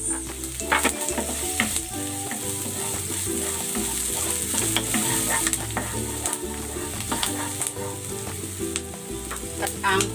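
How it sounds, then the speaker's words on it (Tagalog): Garlic and onion sautéing in a hot pan for scrambled eggs, a loud, dense, steady sizzle with occasional stirring scrapes throughout, close up and without talk. "Igigisa ko na tong bawang. Ilalagay ko na rin tong sibuyas."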